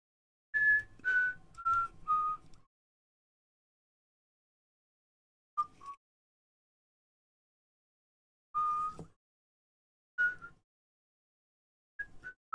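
Someone whistles a short tune, a run of clear notes at first, then isolated brief whistled phrases separated by silence, close and fairly quiet.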